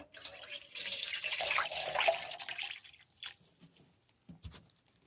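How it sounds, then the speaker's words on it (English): Water poured onto a cactus in a hypertufa pot, a steady splashing trickle for about three seconds that thins into scattered drips and soft gurgles as it pools. "You can see the water starting to run over and accumulate."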